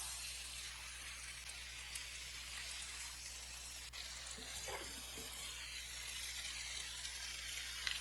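Finely cut tomatoes hit a pan of spiced potatoes with a steady, close sizzle that swells into louder crackling frying, with light clinks of stirring and no talking.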